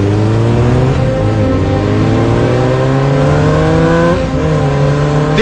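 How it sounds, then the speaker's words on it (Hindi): Motorbike engines rev hard and continuously during wheelie stunts on a busy Delhi road, the pitch climbing and dipping in long sustained surges, loud and close throughout. "देखिए कैसे एक टायर पर बीच सड़क पर बाइक चला रहे हैं।"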